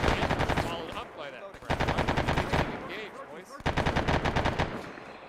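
Automatic weapon fire in the military video game Arma, with troops firing on doors and windows; repeated loud bursts of rapid shots punctuate steady radio-style talking throughout.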